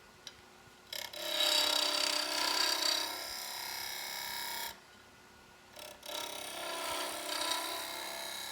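Shear scraping a dense, very dry wooden bowl on a lathe: two long stretches of steady, hissy, fairly quiet scraping, separated by a short pause, with a faint hum underneath.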